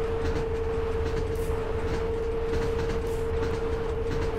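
A train of eight wagons running in the Train Driver 2 railway simulator gives a loud, steady rolling rumble with a constant droning hum, unbroken for the whole stretch and with no talk.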